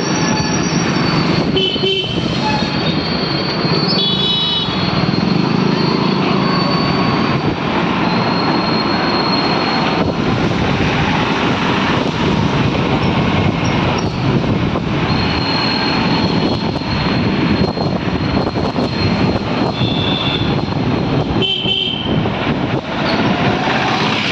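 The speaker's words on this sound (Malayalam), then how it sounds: "ബൈക്കിങ്ങനെ പോയിക്കൊണ്ടിരിക്കുകയാണ്." Motorcycle riding through a large town, giving a steady, loud, unbroken roar of engine and rushing wind that lasts the whole stretch without any talk.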